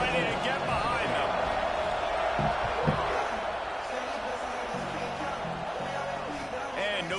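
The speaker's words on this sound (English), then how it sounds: "They're set to kick it off, and this crowd now ready to get behind them." A stadium crowd in an NCAA college football video game hums and cheers steadily at kickoff, with thuds and a few scattered whoops, while a commentator talks over the noise.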